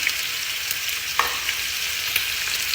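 Shrimp with garlic and ginger frying in a pan makes a steady, bright sizzle throughout, with a few light clicks of stirring and no speech.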